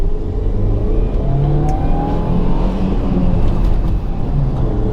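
Car engine accelerating with a steady low rumble and rising hum, loud and close from inside the vehicle, with no talk.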